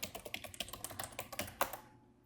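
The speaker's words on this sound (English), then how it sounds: "You are seeing me type here" Steady, fairly quick keystrokes tap away on a computer keyboard, a continuous run of light clicks with an occasional louder key near the end, close and fairly quiet.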